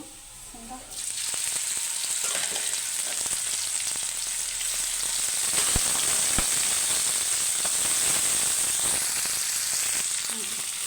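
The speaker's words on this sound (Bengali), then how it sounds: "একটা শুকনো মরিচ, রসুন, পেঁয়াজ এই যে বেরেস্তা কালার করে ভেজে নিচ্ছি।" Dried chili, garlic and onion frying in hot oil until golden brown, a loud, steady sizzle that carries on without a break, close up and alone.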